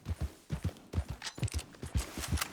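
A horse's hooves clop rapidly in Red Dead Redemption 2, with quick close thuds coming in steady galloping pairs and a few sharper cracks mixed in.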